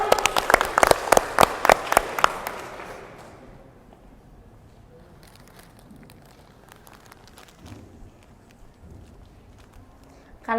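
Students at a religious school gathering clap in a short burst of loud, rhythmic applause that fades after a few seconds, leaving a quiet room with faint movement and murmurs.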